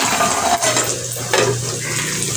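A pot of fish curry with carrot, potato and pointed gourd bubbling and simmering steadily up close, a continuous wet hiss with a few soft clinks.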